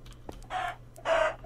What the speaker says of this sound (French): il y a une poule encore qui vient me déranger.